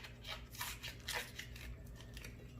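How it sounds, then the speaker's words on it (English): Plastic dip coating is peeled off a motorcycle heat shield in a few quiet, close, tearing rips with brief crinkly bursts and short pauses between pulls. "plastic dip being ripped off or removed, I'm just gonna do it on camera right now"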